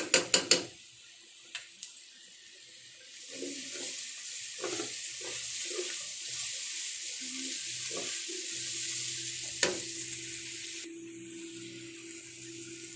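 Ginger garlic paste fries with browned onions for biryani: a steady sizzle runs throughout, with a few sharp metallic clinks at the start and occasional spoon knocks against the pan.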